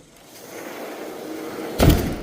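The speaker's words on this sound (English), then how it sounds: "let's lock up this door" An interior door at a house under remodel swings shut with a single solid slam near the end, after a quiet stretch of faint handling noise.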